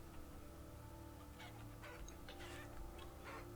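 Chickens cluck in the Vintage Story video game, a few short calls popping up over a steady droning game ambience with no talking.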